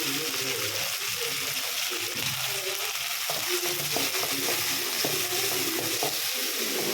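Mutton liver masala fries in a pan, a dense continuous sizzle with soft stirring scrapes throughout, close and fairly loud, without talk.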